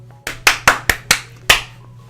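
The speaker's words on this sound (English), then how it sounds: "I'm just gonna clap like 5 times" Six sharp hand claps ring out close by, spaced fairly evenly, with a slightly longer gap before the last one.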